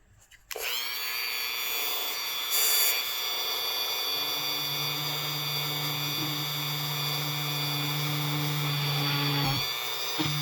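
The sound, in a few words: power drill drilling holes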